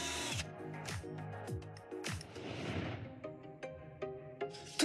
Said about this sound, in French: je prends une mèche diamantée et je le fais dans l'eau